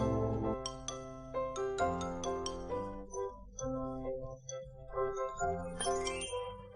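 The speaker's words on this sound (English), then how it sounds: "Hearing the sound of the bell, Saki came to buy ice creams." An ice cream seller's bright bell rings repeatedly in quick, jangling bursts, clear and fairly close, with no voices.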